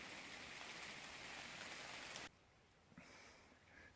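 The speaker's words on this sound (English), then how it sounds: "Here comes the rain again." Steady rain pours down in a forest, a dense hiss for about two seconds before it suddenly drops off to a faint patter with a few soft drips.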